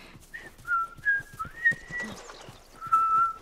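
A character whistles in the video game The Last of Us, a clear melodic tune of several sustained notes over faint ambient game sound.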